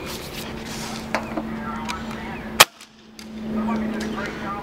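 An Umarex H&K USP CO2 airsoft pistol with a fresh CO2 cartridge fires a 0.20 gram BB: one sharp, close crack midway through, set against steady indoor hum and faint rustling.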